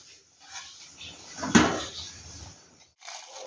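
A lid goes onto a pot of clams simmering with a little added water for Mangalore-style clam sukka: one sharp clank near the middle, with quiet kitchen rustling before and after.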